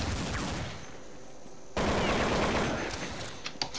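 Gunfire in Counter-Strike 1.6, with a Desert Eagle in use: a faint crackle gives way to a sudden loud volley of shots that carries on to the end.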